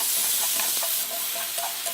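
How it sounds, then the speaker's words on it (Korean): Shredded beef stir-fried in a little oil while spread apart with chopsticks, giving a steady, bright sizzling hiss with faint scraping ticks, close and continuous, no talk. "기름을 조금 두르시고 고기, 채를 썰었던 고기이기 때문에 젓가락으로 이렇게 펼쳐가면서 잘 익도록 볶아줍니다"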